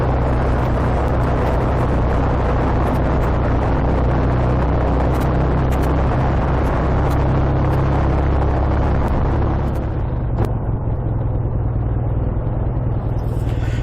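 Engine of a BSA A10 motorcycle running steadily at the seaside in Cornwall, a loud, continuous low throb with broadband rumble that eases slightly toward the end.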